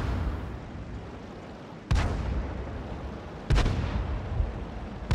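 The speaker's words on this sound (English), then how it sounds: "There's the artillery." Artillery shells land in the World of Tanks video game, three sharp booming impacts spaced a second or two apart, each trailing a rumbling decay over constant battle noise.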